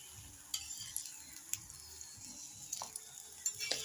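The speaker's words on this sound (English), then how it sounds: "You can hear the sizzling" Quiet, steady sizzle of oil heating in a pan for chapatis, with faint clicks and a few light scraping taps, close by and without speech.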